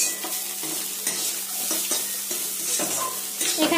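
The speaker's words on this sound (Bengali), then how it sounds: "এখানে এই যে শুকনো লঙ্কা আর একটু পাঁচফোড়ন দিয়ে থোড়টা ভাজি" Banana stem stir-fried in a pan with dry red chilli and panch phoron, a close steady sizzle with repeated scraping stir strokes in an even rhythm, no talking.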